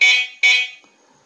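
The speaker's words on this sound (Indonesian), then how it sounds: "Untuk suara klakson itu masih." Two loud, close honks from an electric bicycle horn, each about half a second long with a short gap between them, followed by quiet.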